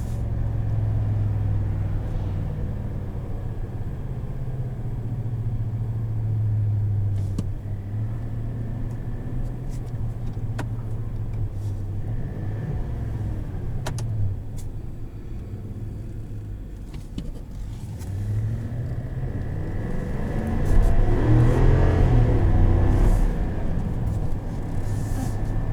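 A 2020 Chevrolet Silverado 2500 LT pickup's engine drones low and steady while driving, rising briefly as it works harder near the end, heard from inside the cab with no talking.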